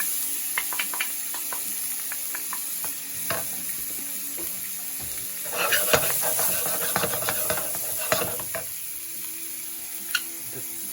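Onions frying in butter in a pan, a steady hiss with bursts of crackle and spoon scrapes as they are stirred, close and even across the clip.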